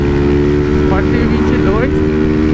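A Honda Titan 160 motorcycle engine runs loud and close while riding, a steady droning roar with wind rush and a brief voice underneath.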